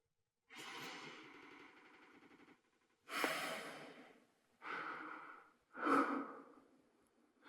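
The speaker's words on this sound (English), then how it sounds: "Heavy breathing." Heavy, drawn-out breaths come close and loud in four long bursts, each a rough exhale with airy hiss, with short silent gaps between.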